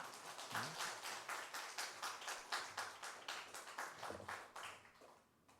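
A church congregation claps in welcome during a Sunday afternoon service, a steady rhythmic round of many hands clapping in unison that fades out toward the end.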